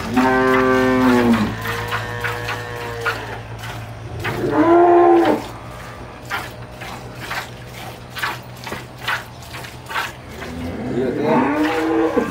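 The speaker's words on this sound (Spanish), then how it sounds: "En su periodo de lactancia igual es buenísima esta vaca." A dairy cow on a farm in El Salvador lets out loud, drawn-out moos, one long low call at the start and another mid-way, with a third starting near the end, over steady rural background noise.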